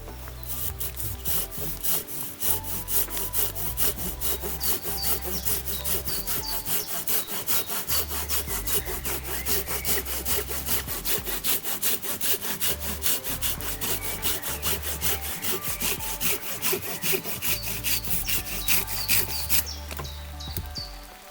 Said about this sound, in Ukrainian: Тепер подивимося, як ріже пила дерева.